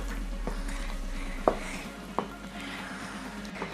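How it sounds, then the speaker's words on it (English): Cooked macaroni stirred with cheese in a pot on the stovetop, quiet wet squelching with a few soft spoon knocks against the pot, faint and without talk. "Time to mix. You want to get all the cheese on the macaroni"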